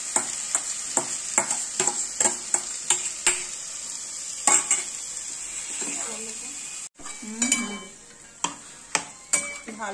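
Marinated fish frying in a pan, a steady close sizzle broken by a regular series of sharp spatula scrapes and taps as it is stirred, with brief speech near the end.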